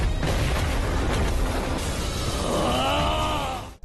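A big, loud explosion in the Chinese fantasy animation Perfect World, a sustained roaring blast with a rumbling low end that swells and then cuts off abruptly.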